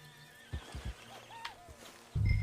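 Horse whinnying in the video game Red Dead Redemption 2, a single clear neigh with a rising and falling pitch, with a few soft hoof thumps before it and a louder rumble closing the moment.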